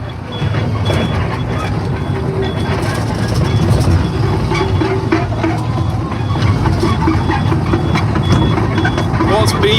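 A faint, regular reversing beep repeats far off beneath heavy rumbling traffic noise and muffled voices, at night on a farm.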